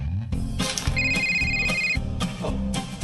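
A telephone rings with a bright, repeating electronic trill in two bursts, loud and close, with a gap of quiet between them.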